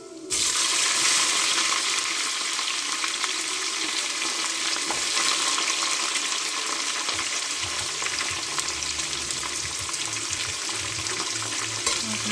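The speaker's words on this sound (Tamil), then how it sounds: "நல்லா பொரிஞ்சிச்சு, முந்திரி போட்டுக்கணும். ஆனியன் போட்டுக்கிறேன்." Cashews and onions fry in hot oil for mutton biryani, a loud, dense sizzle hissing steadily throughout with a lower rumble joining partway.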